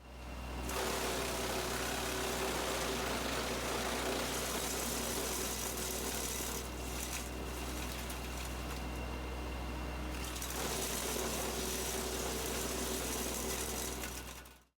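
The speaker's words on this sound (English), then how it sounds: "let's turn the tractor on and make some mulch." A tractor engine runs steadily at a constant drone, loud and continuous with no talk, powering a DR wood chipper set up to make cedar mulch.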